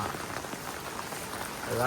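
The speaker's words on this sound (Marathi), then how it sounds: "फुल पाऊस पडतोय बघा" Steady, dense patter of rain falling, a constant broadband hiss that swells slightly louder at the end, with a faint tonal sound creeping in.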